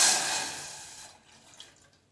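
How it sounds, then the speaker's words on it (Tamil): About half a tumbler of water pours into a milk-boiling pan on a stove while a dates milkshake is made, a loud close splash that trails off into faint drips. "இதில் ஒரு அரை டம்ளர் நான் தண்ணி ஊற்ற போகிறேன்."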